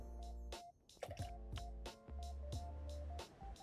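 Water being poured in the video game Sky comes through as a series of about eight quick, bright plops and drips at an even pace, over sustained soft musical tones.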